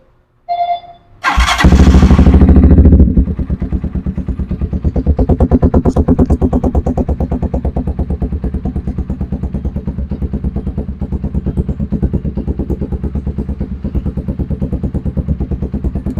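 A Z200 motorcycle fitted with an Akrapovic exhaust canister whirs briefly on the starter and then fires up with a loud blip of revs. It settles into a close, steady, pulsing idle that continues to the end.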